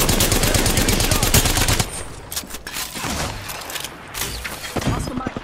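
Rapid automatic gunfire in Apex Legends, a loud fast burst up front, then scattered shots and impacts further off, with faint voices under the action.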